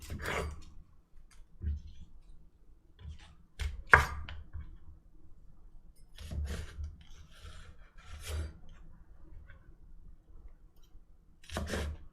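A knife chopping scallions on a cutting board, landing in irregular clusters of crisp thuds and taps with long quiet gaps between, close up and alone.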